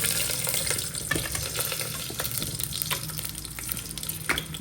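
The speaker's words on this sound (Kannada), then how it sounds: "ಎಣ್ಣೆ ಹಾಕೊಂಡಿದ್ದೀನಿ ಇದನ್ನೆಲ್ಲ ರೋಸ್ಟ್ ಮಾಡ್ಕೊಂಡು ರುಬ್ಕೋಬೇಕು" Ingredients roasting in hot oil in a pan give a steady close sizzle and crackle, with scattered clinks and scrapes of stirring throughout and no voices.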